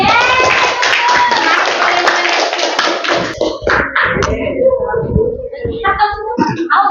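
Classroom applause breaks out as students clap together in a dense burst, followed by scattered, uneven claps tapering off, heard close.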